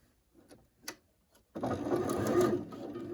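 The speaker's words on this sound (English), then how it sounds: "Okay, so always sew a couple stitches to get started, and then I'll start shifting my fabric." A sewing machine stitches fabric pieces for a colorblock quilt block, starting after a few faint clicks and handling sounds, then running in a steady close whirring hum for the last half of the clip.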